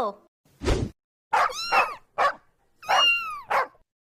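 Several high-pitched yips and barks come in quick pairs, close and fairly loud, with short pauses between them.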